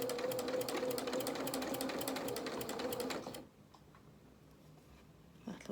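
A sewing machine stitches dungarees in a rapid, even mechanical chatter for about three seconds, then stops, leaving quiet handling noises.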